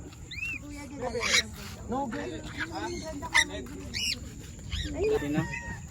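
Pet parrots, a macaw, an African grey and a sun conure, give scattered squawks and whistling calls at moderate loudness, mixed with people talking nearby.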